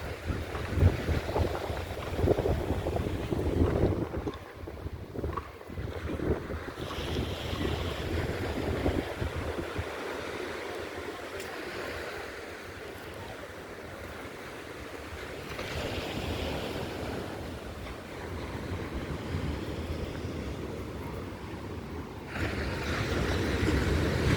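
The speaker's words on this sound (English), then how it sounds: "the sound of water or the sea is relaxing" Sea waves washing against the shore in Gran Canaria, a continuous rushing surge that swells and recedes, mixed with wind buffeting the microphone.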